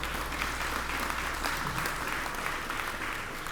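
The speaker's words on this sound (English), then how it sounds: "Let's give her a big round of applause." An audience at a Grant Center ribbon-cutting ceremony applauds steadily, a dense, even wash of many hands clapping at once that holds through the whole moment without letting up.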